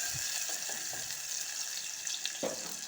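Chopped onions and green chillies fry in a pan, a steady, quiet sizzle with a few soft scrapes of stirring, heard alone without talk.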